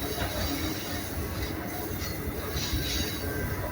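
From aboard a freight train heading east from Missouri Valley, Iowa, a steady loud rumble of rolling rail cars fills the space, with dense low roaring and rattling and no clear pauses.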